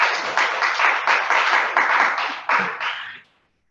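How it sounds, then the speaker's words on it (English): Audience applause after a talk: a burst of dense, steady clapping with a rhythmic pulse that runs for about three seconds, then stops abruptly. "Here, we'll give you a little applause for it."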